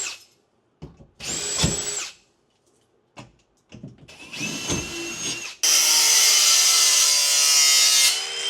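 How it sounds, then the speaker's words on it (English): Cordless drill with a cut-down Allen key bit and its clutch set low, spinning Allen head screws into wood in short bursts, then a long steady whine of driving near the end. "So I've just cut down the provided Allen key, put it in the drill, clutch on low. That way you can just whiz these in."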